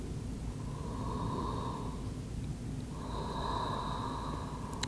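Slow, deep breaths during a beginner yoga pose, two long airy exhalations close to the mic over a steady low background hum, with a short pause between them.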